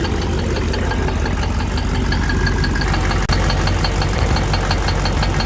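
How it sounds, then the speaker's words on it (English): An old diesel pickup truck engine idles steadily nearby, a continuous low rumble with a rhythmic clattering knock, running without a break and with no talk over it. "the sound of this old diesel pickup just soothes her to sleep"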